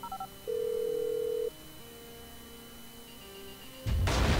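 Phone keypad tones and a short dial beep in Grand Theft Auto V, then a sudden loud blast as a bomb is detonated by phone; the tones come first and the explosion closes the clip.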